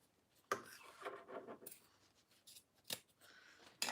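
Scissors snipping through zipper tape sold by the yard, several short crisp cuts and rasps spread out unevenly, faint and close, with no one speaking.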